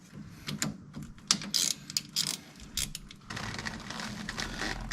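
Hand ratchet tightening an inner tie rod on a Foxbody Mustang, a quick series of close clicking pulls, followed by a steadier mechanical rasp.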